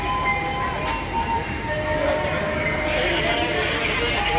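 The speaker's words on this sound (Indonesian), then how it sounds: "ini jalur kedua kereta api Ambarawa Express yang sebentar lagi akan diberangkatkan" Ambarawa Express passenger train waiting at the second track of Pasar Turi station, a steady rumble and hum across a busy platform with faint crowd chatter and brief tonal squeals.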